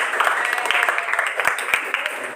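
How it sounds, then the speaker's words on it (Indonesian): Classroom applause for a student discussion group, a short burst of scattered clapping from students over a few seconds. "Kasih tepuk tangan dulu untuk kelompok."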